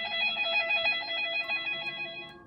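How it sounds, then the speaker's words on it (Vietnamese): A desk telephone rings continuously beside someone in a horror cartoon, its bright, even electronic trill repeating steadily at moderate volume with no voices over it. "Tiếng chuông điện thoại vẫn reo liên hồi."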